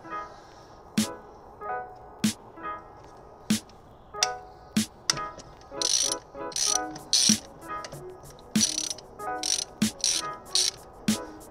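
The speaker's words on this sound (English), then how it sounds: "I've got a 14mm socket on one of those UJ things, and that should allow me to get down there to undo these bolts" A ratchet turning a 14mm socket on a universal joint, undoing bolts during an alternator replacement on a Mazda MX5, giving quiet repeated clicking ratchet strokes with intermittent metallic rattles, close and alone.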